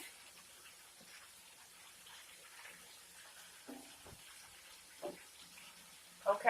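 Water runs steadily into a kitchen sink holding raw chicken, a faint, even hiss close by with a few small clatters near the end.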